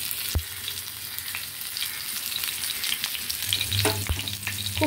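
Fish tikka fries in oil in a pan, a steady close crackling sizzle with a couple of sharp clicks from turning the pieces and a low background hum.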